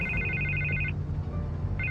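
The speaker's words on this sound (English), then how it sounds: "I can't get the phone to stop ringing." A telephone ringing inside a Batman video game, a bright electronic double trill that rings once, pauses, then starts again, over a low steady background hum.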